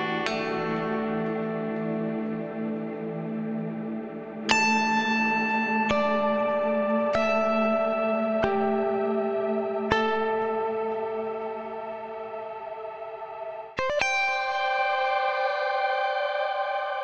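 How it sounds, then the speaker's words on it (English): Ambient pad generated from electric guitar sources in Modus & Forma: a soft, sustained drone with reverb and echo, joined by a series of bright plucked-sounding notes that bloom and hang, ending on a swelling high shimmer. "A pad layer with sounds generated from guitar sound sources."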